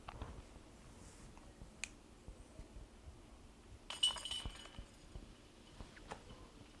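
Cleanup putts at a disc golf tournament strike the metal basket chains, heard faint and distant outdoors. Scattered sharp clinks give way to one brief jangling chain rattle midway, then a few more light taps.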